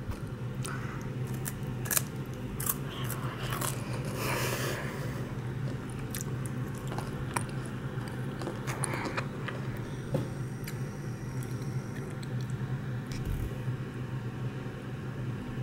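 Crispy baked Kit Kat bitten and chewed close to the mic, sharp crunchy snaps scattered through steady crackly chewing over a constant background hum.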